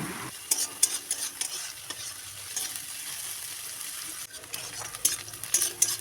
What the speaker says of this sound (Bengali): কেটে রাখা পেঁয়াজ পেঁয়াজটা একটু সময় ধরে লালচে করে ভেজে নেব